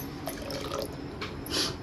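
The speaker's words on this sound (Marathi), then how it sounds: "चिंच ओतून घेतली." A short, soft pour of tamarind water with a light splashing trickle, quiet and close, no voices.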